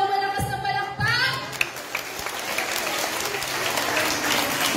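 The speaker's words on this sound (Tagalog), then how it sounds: "Isa pa daw malakas na palakpak." Children clap for a clown at a Filipino children's day party, the applause steady and fairly loud across the whole stretch, starting a little ragged before filling in, with voices mixed through it.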